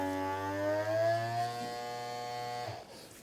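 The motor of an electric vacuum suction cup lifter hums with a steady buzzing whine for nearly three seconds, then cuts off abruptly, leaving a faint click and residual noise.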